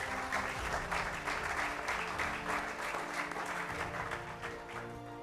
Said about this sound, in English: A round of applause for Wisdom.